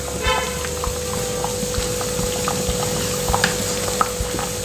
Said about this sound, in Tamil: இப்போ குழம்பு நல்லா தரன்னு கொதிச்சுட்டு இருக்குங்க